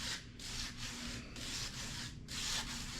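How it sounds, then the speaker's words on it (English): A knife trims masking tape against a Ford 352 motor block being masked for paint, giving a series of close, soft rasping scrapes in short repeated strokes with brief pauses between them. "Trimming tape against a motor block."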